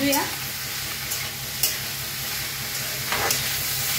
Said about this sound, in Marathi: बघा 1 मिनिटभर असा कोबीज भाजून घेतलाय।